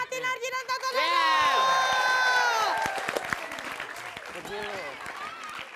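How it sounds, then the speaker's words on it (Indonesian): A TV comedy studio audience breaks into applause with cheering and whoops, thick and lively, and shouting voices sit over the clapping. "Tepuk tangan buat Pak Ati Narji dan Tata Neno."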